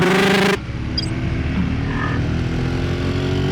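A KTM 390 Adventure or Royal Enfield Himalayan motorcycle, heard while riding, gives a steady, close intake and exhaust drone that stays even after a louder opening burst.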